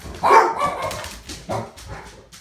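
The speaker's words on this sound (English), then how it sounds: "That's my dogs." Dogs bark indoors, a loud burst of yapping up front followed by several softer barks and whimpers trailing off, fairly close and without talk over them.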